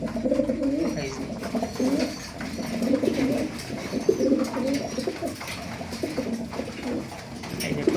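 A male pigeon coos in a soft, repeated rhythm of low throaty calls, close by and steady, with faint flock noise behind and no talking.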